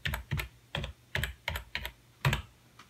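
A computer keyboard that has been washed in a dishwasher is typed on, seven or eight distinct clacking keystrokes in an uneven rhythm, close and clear with no talking.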